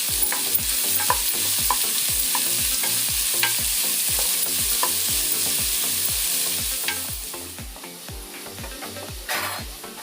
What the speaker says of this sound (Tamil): வெங்காயம் போட்டுக்கிறேங்க. வெங்காயம் நல்லா வதங்கட்டும்.